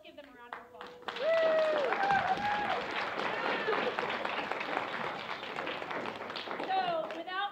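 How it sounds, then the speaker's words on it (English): An audience in a hall bursts into sustained applause and clapping, steady and dense for several seconds, with a voice speaking briefly at the start and end. "let's give them a round of applause."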